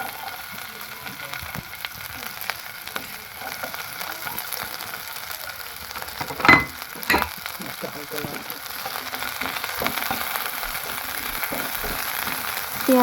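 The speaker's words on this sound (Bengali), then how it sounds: "পেঁয়াজটা হালকা লাল করে ভেজে নেব" Chopped onion fries in oil over a full gas flame after cumin seeds, a steady soft sizzle with occasional stirring clinks and a louder scrape midway.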